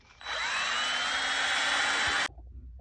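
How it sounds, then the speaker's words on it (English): A wire brush on a wire wheel whirs steadily for about two seconds, knocking loose rust off a 1977 high boy radiator core ahead of rust remover gel, then cuts off abruptly, close and loud with no talking. "I'm just going to use my wire brush on a wire wheel and get it kind of the loose stuff kicked off"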